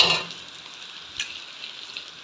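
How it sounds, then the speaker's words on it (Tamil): An egg sizzles as it hits a hot pan of frying onions, a bright burst of crackle at the start that settles into a quieter steady fry, with no voices. "ஒரு முட்டையை வந்து உடச்சி ஊற்றிட்டேன் பாருங்கள்"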